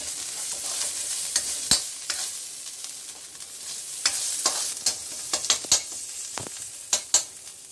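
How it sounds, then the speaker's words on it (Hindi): Ingredients for tomato soup sauté in a pan at home, with a steady sizzle and frequent scraping, clacking stirs of a spoon against the pan, close and alone without talk. "और इसको भी थोड़ा सा अच्छे से भून लेंगे।"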